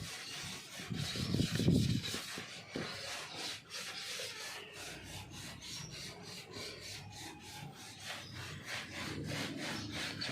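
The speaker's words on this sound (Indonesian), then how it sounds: "Coba kita bagian celah kita ratakan dengan sikat gigi biar lebih bersih untuk menghilangkan kerak dan jamurnya" A toothbrush scrubs crevices in white car paint, giving a close, rhythmic scratchy rasping with brisk back-and-forth strokes, louder at the start and then steady and softer.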